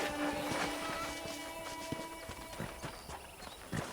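Horse hooves clip-clop at a steady walking pace in the video game Red Dead Redemption, moderately close, with faint background sounds and a low hum.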